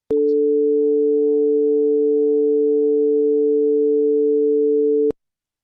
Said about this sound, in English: this is a relatively more sophisticated tone, and which is actually a mixture of two tones